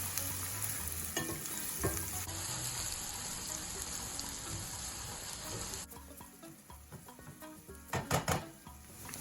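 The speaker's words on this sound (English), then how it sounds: "To that, I'll add in my diced up onions, and I'll fry it for about 3 to 5 minutes" Diced onions fry in a heated pan of coconut oil, giving a steady, close sizzle with soft crackling throughout, a brief lull after a few seconds, then a couple of sharper clinks near the end.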